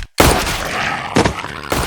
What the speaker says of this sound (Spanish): había sacado su arma y con una velocidad de dioses logró encajar un disparo certero